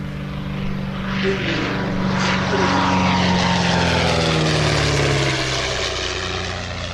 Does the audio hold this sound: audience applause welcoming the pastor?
no